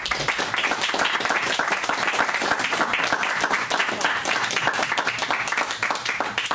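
Applause from the audience at a Pleasant Ridge city commission meeting, a steady, dense round of clapping from a modest crowd that holds loud and even throughout before tapering slightly at the end.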